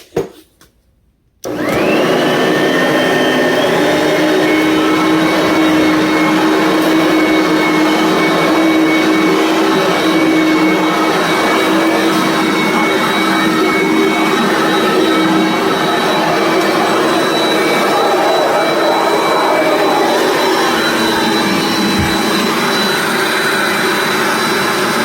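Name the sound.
Aurik vacuum cleaner running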